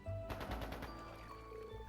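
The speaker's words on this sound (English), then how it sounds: "Is that gunfire? It sounds like it's a little ways from the village." Distant gunfire in Trails into Reverie, a quick rattling burst of several shots in rapid succession that stops abruptly, followed by quiet ambient tones.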